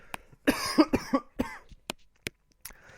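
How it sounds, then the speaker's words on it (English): A person coughs several times in a rough, uneven burst, followed by a few isolated sharp coughs spaced apart, close and fairly loud. "Sorry, I just had to cough there."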